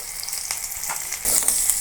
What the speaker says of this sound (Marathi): आपला कांदा लाल झाला की आपण इथे ठेसा टाकून घेऊया